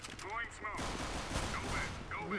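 Rapid gunfire from the tactical shooter Counter-Strike: Global Offensive, a short dense burst of loud, close shots running throughout, with a voice speaking over it.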